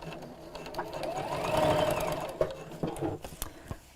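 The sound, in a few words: sewing machine reverse stitching a seam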